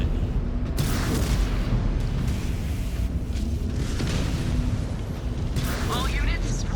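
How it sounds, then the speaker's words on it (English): Artillery shells from MechWarrior 5: Clans land in a dense, continuous barrage, heavy low booms rolling one after another with brighter blasts near the middle and end, over a steady din of mech battle. "All units, watch those artillery impacts."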